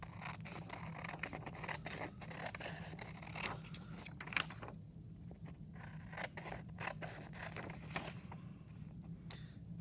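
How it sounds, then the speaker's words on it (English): Scissors cutting paper boxes out of a sheet, a series of quiet irregular snips and paper rustles, close and faint with no talking. "We are just going to cut out the top 2 boxes."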